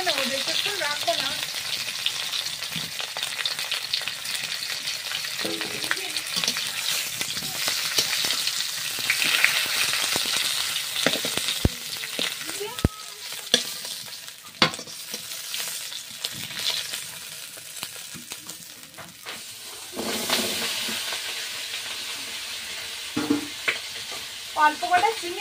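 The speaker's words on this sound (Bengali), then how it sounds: "অল্প একটু নাড়াচাড়া দিয়েই তুলে নেবো, বেশিক্ষণ রাখবো না।" Taro and shrimp being stirred and fried in oil, a steady loud sizzle with scraping stirring strokes and occasional knocks of the utensil, continuous throughout with little talk.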